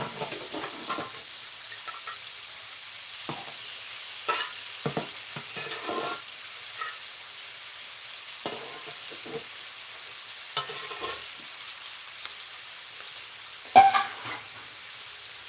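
Cluster beans fry in a pan with onions, cumin, curry leaves and green chillies, giving a steady low sizzle broken by occasional stirring scrapes and clinks, near and moderately quiet, with no talk.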